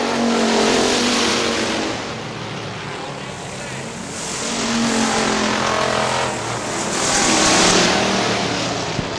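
Factory stock race cars battle at Hartford Speedway Park in Hartford, Michigan, with several engines roaring together that swell and fade as the pack passes, loud and continuous under a voice talking.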